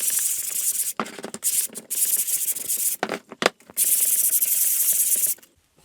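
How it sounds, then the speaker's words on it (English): Sanding a painted MDF display plinth by hand, with several close, loud bursts of abrasive rubbing separated by short pauses and ending in a longer steady stroke before stopping. "Another quick sand."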